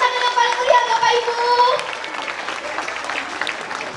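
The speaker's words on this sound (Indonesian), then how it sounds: "Beri tepuk tangan yang paling meriah Bapak Ibu" Audience applause for a children's stage play, a dense wash of clapping with music or voices ringing over it at first, then thinning into scattered claps and crowd noise.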